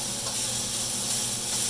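Chicken fried rice sizzles steadily in a hot pan, a close, continuous hiss of frying with faint stirring and no talk.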